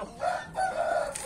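Farmyard chickens, including a bearded hen, cluck in short bursts close by, with a brief crowing note rising and falling across a second, no talk.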